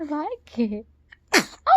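A baby sneezes once, a short, sharp burst that follows a few moments of soft talking and infant babbling, with a voice coming in just after it.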